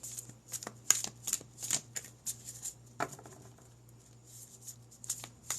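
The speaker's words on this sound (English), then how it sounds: "Let me pull a couple cards." Tarot cards being shuffled and pulled close up, with quick papery riffles, soft flutters and scattered light taps in an uneven rhythm, quiet and without talk.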